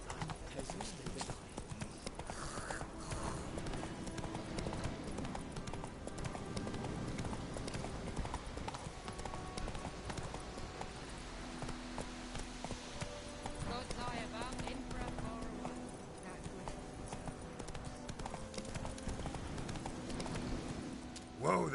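Roach the horse trotting in The Witcher video game, a steady rhythmic clip-clop of hooves running through a dense, loud game soundtrack with music and voices over it.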